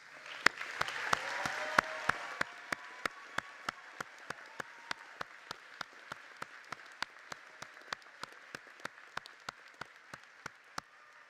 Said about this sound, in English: Everyone, please join me once again applauding the graduates.